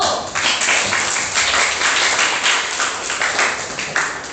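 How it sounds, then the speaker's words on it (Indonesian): A class of students claps for a presenting student group during a classroom teaching session, a steady, fairly loud round of dense applause lasting several seconds without speech. "Silakan berikan tepuk tangan untuk kelompok 1."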